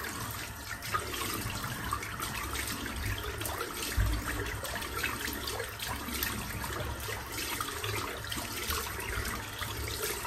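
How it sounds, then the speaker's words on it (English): Water runs steadily from a tap during a wet shave as the head is rinsed off, a continuous splashing rush with a few louder splashes and no voices. "I'm just going to rinse my head off."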